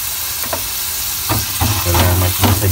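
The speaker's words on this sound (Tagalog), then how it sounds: "Unahin po muna natin ilagay yung ating ginger o luya" Ginger sizzling in a pan over medium heat, a loud close crackle with bursts of spattering and a scrape or two of stirring, no talk.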